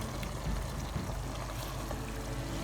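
Water is poured into a pot of Lahori-style beef tripe (ojhri), a continuous splashing, bubbling pour close up with a couple of low sloshes, and no talk.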